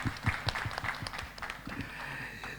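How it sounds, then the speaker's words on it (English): Scattered audience applause at a leadership conference panel discussion, several distinct claps at first that thin out, then a softer continuous patter, fairly quiet and alone. "This requires a good round of applause when a CFO says that."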